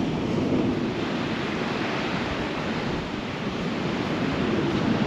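Steady surf and gusting wind on a wide, storm-battered seaside beach in February, a continuous loud broadband roar with no breaks and no voices.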